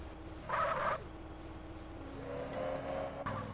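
A car engine hums and revs in GTA San Andreas, a brief loud surge early on, then a steady drone that climbs in pitch as the vehicle accelerates, with no one talking.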